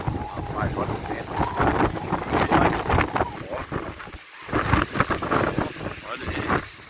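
Strong wind gusting during a windstorm in Goiânia, a loud continuous broadband roar that swells and buffets the microphone, with a brief lull before rising again.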